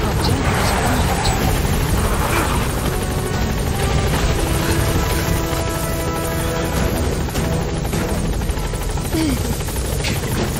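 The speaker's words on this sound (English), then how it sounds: "Support helicopter has arrived." Support helicopter in Metal Gear Solid V arriving at a landing zone, a loud, steady rotor roar filling the whole stretch, with brief gunfire-like cracks mixed in.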